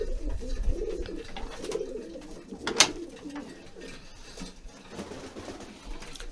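Pigeons in a loft cooing steadily, with flurries of squabbling and a sharp wing clap or scuffle partway through, close and continuous, no talking.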